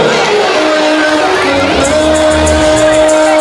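Loud, sustained crowd noise at a school stage program prize ceremony in Shirahatti, a dense wash of cheering and clapping from the audience that holds steady throughout, with shouts rising above it.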